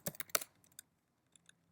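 Keystrokes on a computer keyboard while working in Vim: a quick burst of close, crisp clicks, then a pause and a few lighter, spaced taps near the end, heard alone in a quiet room.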